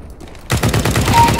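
Desert Eagle pistol fire in Counter-Strike: Global Offensive on Dust II, a sudden loud burst of rapid, close gunshots cutting in after near silence.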